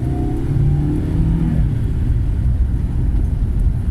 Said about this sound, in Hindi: okay, turn the AC on and floor the car